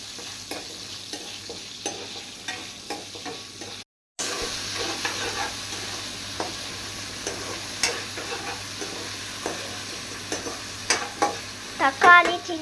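Curry leaves and onion frying in oil for crab curry, a steady hissing sizzle with scattered spoon scrapes and stirring taps, close by, broken by a brief silent gap partway through.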